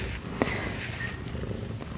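A cat purring steadily and close by, a continuous low rumble filling the whole stretch with a soft brief tap partway through and faint hiss above.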